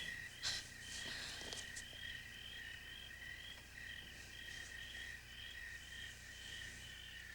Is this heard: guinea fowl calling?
no